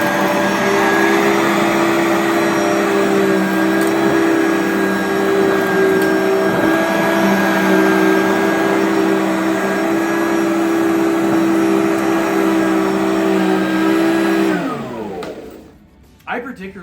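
A Riccar upright vacuum cleaner runs steadily with a loud motor hum and airflow whine that holds constant for about fifteen seconds, then winds down as it is switched off.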